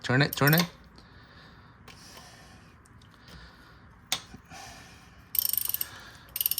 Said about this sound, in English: We're gonna start removing our bolt.